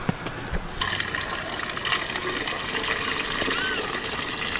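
Water pours steadily into a jug being filled for an RV's fresh water tank, a continuous splashing gush from an outdoor spigot with some background noise.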